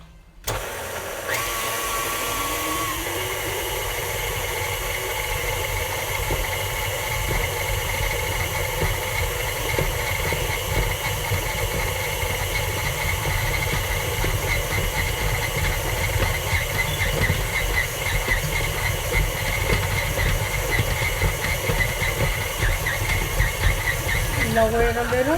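A stand mixer kneads homemade five-minute-rise pizza dough, its motor whirring in a steady, fairly loud drone for the whole stretch, with a voice speaking over it now and then.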